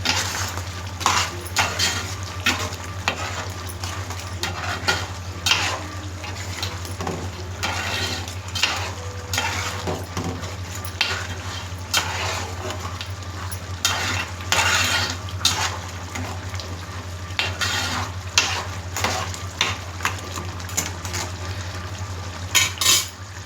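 A spoon scrapes and clinks against a frying pan as curry with ground coriander and homemade garam masala is stirred, steady irregular metallic taps and scrapes over a low stove hum, with no talking.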